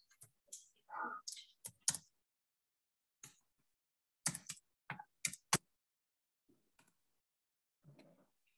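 Scattered keys are tapped on a computer keyboard in short, separate bursts with pauses between them, close and quiet in an otherwise silent room.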